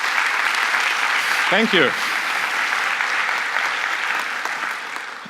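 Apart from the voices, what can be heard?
audience applause for the conference organizers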